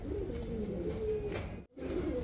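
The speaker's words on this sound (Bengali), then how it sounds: "হলুদ রেন কবুতর" A yellow wren pigeon coos in a soft, wavering low call, repeated close by with a brief gap near the end.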